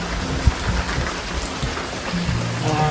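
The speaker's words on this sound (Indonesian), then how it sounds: "Masih hujan, gue nunggu" Steady rain falls at a mountain shelter on a trekking trail at about 800 metres, a dense continuous patter with a few deeper thuds underneath.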